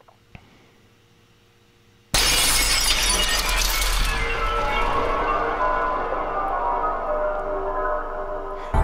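Film blast sound effect: after a quiet opening, a sudden loud burst of shattering glass and debris erupts and slowly decays into a long ringing, crumbling tail.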